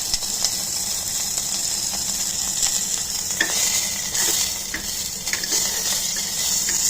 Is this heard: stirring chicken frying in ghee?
yes